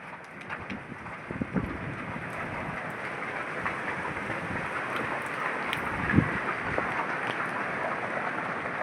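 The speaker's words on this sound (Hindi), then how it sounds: "अच्छी बारिश हो रही है इस एरिया में तो।" Heavy rain pours steadily in an area during a strong windstorm, a dense even hiss with wind gusts buffeting the microphone and a brief louder thump near the end.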